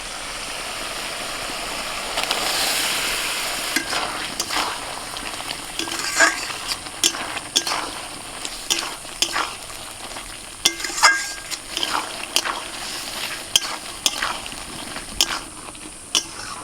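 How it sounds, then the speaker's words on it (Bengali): Bottle gourd being stir-fried with spices in a pan for a Bengali lau dish, with a steady close sizzle and repeated spatula scrapes and clinks against the pan throughout, no talking. "লাউটা ভাজতে ভাজতে অনেকটাই সিদ্ধ হয়ে গিয়েছিল, আর মশলার সাথে আমি আর একটুখানি কষিয়ে নিলাম"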